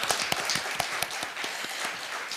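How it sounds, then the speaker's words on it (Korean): A live year-end broadcast audience at a Seoul political party event breaks into dense applause, a continuous wash of close, overlapping claps with no voices. "박수 한번 주세요."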